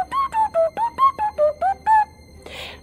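A voice imitates the beeping, warbling chirps of the R2-D2 droid, nine or ten quick rising and falling whistle-like bursts in a bouncy rhythm, ending in a brief breathy hiss.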